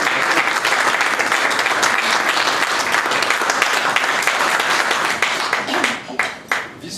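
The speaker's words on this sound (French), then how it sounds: "je vais vous demander d'applaudir une personne qui est ici, qui est Jean-Claude Zambelli" Audience applause at a French political candidate's gathering, a steady, full roll of many hands clapping that stays loud for several seconds, then breaks into a few separate claps near the end.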